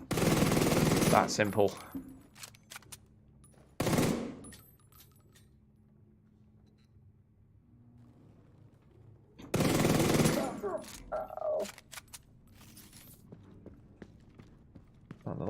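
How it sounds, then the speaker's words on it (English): Gunfire in The Division 2 comes in a few loud, dense bursts separated by quieter stretches, with a clattering, echoing tail after each volley and someone speaking briefly. "You're shooting at me, so I'm going to shoot at you."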